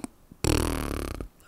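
A voice imitates a fart with the mouth during a podcast, a single loud, close, wet buzzing blurt held for nearly a second and then cut off, with no talking over it.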